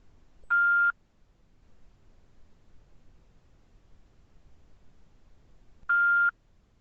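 A Zoom call's recording notification beeps twice, about five seconds apart, each a short, clear electronic tone over faint background hiss.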